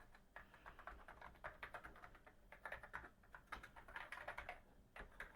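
Keys clatter on an Atari ST computer keyboard in quick, uneven bursts with brief pauses, close and fairly quiet, with no talking.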